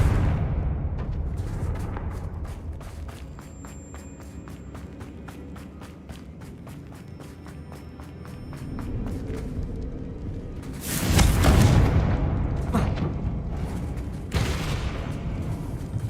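Confringo fire spell blasts in Hogwarts Legacy, with a heavy explosive burst near the end followed by a second boom, over a low game ambience and a rhythmic ticking pulse earlier.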